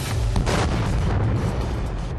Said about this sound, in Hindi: सेबेक्स 2 में विस्फोट होते ही फ्रेगमेंटेशन इफेक्ट होता है